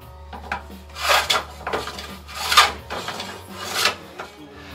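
Hand plane shaving wood while shaping a Greenland paddle, several rasping strokes in an uneven rhythm, close and moderately loud, with no talk.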